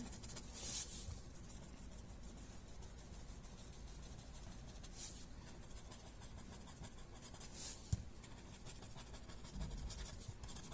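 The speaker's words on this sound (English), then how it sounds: "blending the pencil." Soft, steady rubbing of pencil shading being blended across paper, a faint continuous scratchy hiss with a few brief louder strokes, close and alone without talk.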